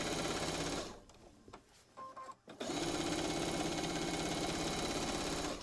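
A sewing machine free-motion quilting a quilt runs loud and close, its rapid needle stitching steady, pausing for about a second and a half with small clicks before resuming at full speed to the end.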